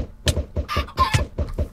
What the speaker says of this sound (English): Chickens, unleash your might.